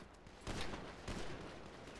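Two bursts of rapid gunfire ring out during a shootout in GTA, one after the other about half a second apart. Each burst is loud and sharp, with quieter background noise in between and no talk.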